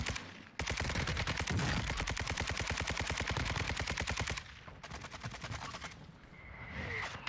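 Rapid automatic gunfire from a weapon in the video game Warzone 2, a long sustained burst of evenly spaced shots up close and loud, followed by a shorter, fainter burst.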